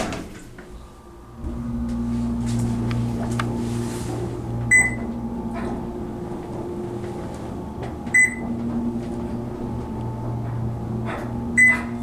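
OTIS hydraulic elevator in a resort building hums steadily while short high chimes ring three times at intervals, with door movement clunks and a motor drone underneath.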